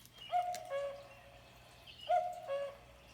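A pair of bird-call phrases from an electronic children's book, owl-like hoots with chirpy overtones, separated by a short gap, clean and fairly quiet against a faint hum.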